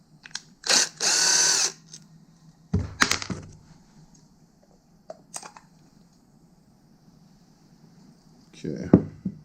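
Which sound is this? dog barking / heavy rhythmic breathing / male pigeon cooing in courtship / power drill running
power drill running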